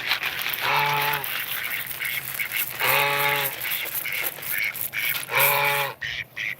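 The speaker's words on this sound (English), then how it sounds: "I have a couple geese. I got a duck and a goose." Ducks quack in three loud, nasal bursts a couple of seconds apart at feeding time, close by, over steady outdoor background noise and faint movement.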